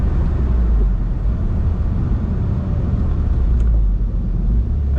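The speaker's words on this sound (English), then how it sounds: "This is a very easy to drive," 2012 Mini Cooper Roadster S engine while driving, a steady low rumble with road and wind noise, constant and close throughout.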